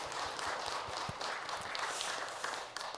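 Church congregation at a New Year special dawn prayer service applauds in a dense, steady patter of many hands that sounds somewhat distant and soft throughout.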